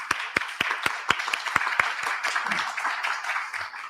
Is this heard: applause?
yes